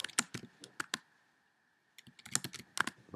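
Quick bursts of keystrokes clatter on a computer keyboard, a cluster of clicks, then a short pause, then another run of taps, close and fairly quiet.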